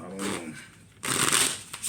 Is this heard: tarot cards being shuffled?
yes